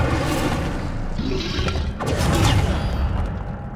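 An Incendio fire spell is cast in Hogwarts Legacy, giving a dense, roaring whoosh of flame with booming thuds that swells and fades over a few seconds, loud and close.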